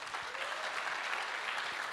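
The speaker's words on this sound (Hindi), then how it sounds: "मैं चाहूंगा एक बार जोरदार ताली होनी चाहिए वेस्टीज मार्केटिंग प्राइवेट" An audience at an anniversary celebration for a marketing company applauds, steady dense clapping from a crowd, moderately distant and continuous throughout.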